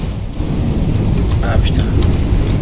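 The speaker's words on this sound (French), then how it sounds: "le bruit de la pluie s'est arrêté, c'était infernal" Rain and rolling thunder in the horror video game Pacify, a dense, loud, continuous wash of rainfall with a deep thunder rumble underneath, plus a few faint higher sounds and some speech mixed in.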